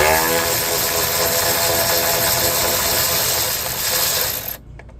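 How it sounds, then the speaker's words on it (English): A ratchet clicks rapidly and continuously while backing out small bolts on transmission line brackets of a 2007–2013 Chevy Silverado or GMC Sierra, loud and close, stopping abruptly near the end. "So I'm just going to see if I can get these two little bolts out."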